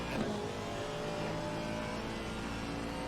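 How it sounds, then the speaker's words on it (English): A race car in a racing video game at Mount Panorama passes by with a steady, loud engine drone that holds on without a break. "As we're hearing another car"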